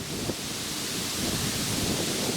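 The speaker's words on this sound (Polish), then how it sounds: "No tak to duże wiatrzysko" Strong outdoor wind buffets the microphone in a continuous, roaring broadband rush with low rumbling gusts and no voices.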